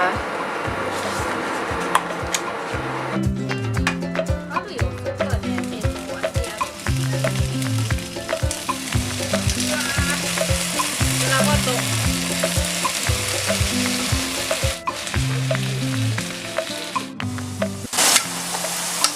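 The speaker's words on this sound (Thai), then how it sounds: "ทอดก่อนนะคะ น้ำมัน 2 ช้อนโต๊ะนะคะ" Potatoes fry in two tablespoons of oil in a pan with a steady, close sizzle throughout, while a rhythmic low musical beat plays underneath.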